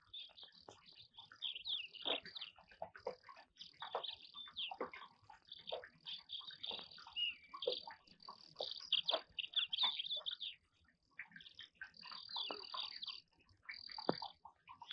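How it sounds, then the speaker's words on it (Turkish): Birds chirp and twitter beside a clear spring outdoors, a lively chorus of high, quick calls that carries on steadily, fairly faint and without talking. "Cıvıl cıvıl kuşlar."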